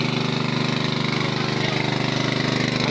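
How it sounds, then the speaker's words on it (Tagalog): A motor pump draining water from a pond chugs loudly and continuously at close range, a steady rapid engine throb with no break and no voices. "ginagamitan na po namin ng motor para po mawala agad ang tubig"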